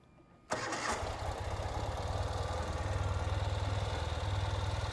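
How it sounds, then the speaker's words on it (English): A 2019 Ural Gear Up sidecar motorcycle with fuel injection starts abruptly after a brief quiet moment, then settles into a steady, smooth, close idle with a low, even throb that continues to the end. "This one has a new style fuel injection, so you can see how it idles nice and smooth. Started right up."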